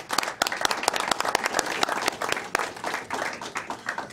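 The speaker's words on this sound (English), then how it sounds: "So one more round of applause, please." Audience applause at a board of education meeting in Enfield, Connecticut, with distinct individual claps standing out, lively and moderately loud, tapering slightly near the end.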